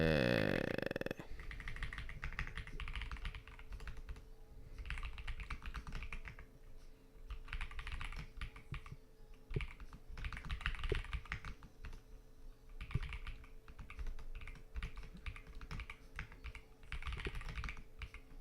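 Quiet clatter of typing on a computer keyboard, with bursts of rapid keystrokes broken by short pauses, close by and alone, without talk.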